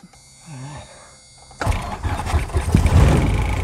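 A small airplane engine cranks and catches, bursting into a loud, rough, broadband roar that continues steadily after a quieter mechanical whine.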